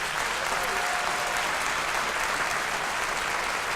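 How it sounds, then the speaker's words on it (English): A conference audience gives a round of applause for Angela and Robin McAlpine, a thick, even wash of clapping from many hands that holds steady for several seconds. "Can I please give a round of applause to Angela and Robin McAlpine?"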